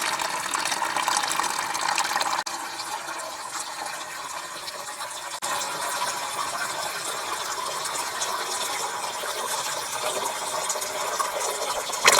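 Water runs steadily from the tap of an empty front tank on an off-grid CrossTrak setup into a 10 litre bucket, a continuous close hiss and splash lasting throughout with no talk.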